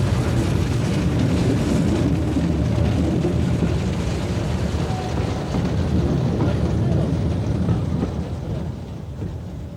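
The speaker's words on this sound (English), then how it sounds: "The engine is going flat out." A Sentinel Class Y1 steam locomotive on the Middleton Railway in Leeds runs flat out, giving a loud, steady, dense rumbling chug that holds throughout and eases slightly near the end.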